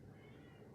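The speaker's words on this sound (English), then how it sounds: "ignore the meowing in the background. That's my cat." A domestic cat meows faintly in the background, a quiet, short call over low room noise with no talking.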